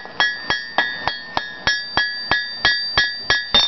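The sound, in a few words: light hammer blows shaping hot steel leaf ornament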